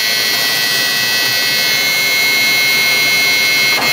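A Cummins 8.3 diesel engine in a 1998 Freightliner Western Hauler toter truck runs with a loud, steady buzzing whine, held constant and close throughout, with no voices.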